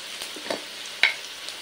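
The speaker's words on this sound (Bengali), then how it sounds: "তো আলুটা একটু ভেজে নেব যাতে অনেকটাই নরম হয়ে যায়" Potato pieces with a little turmeric fry in a pan for a potato-shrimp kosha, giving a soft background sizzle broken by a few close spatula knocks and scrapes, one clearly louder than the rest.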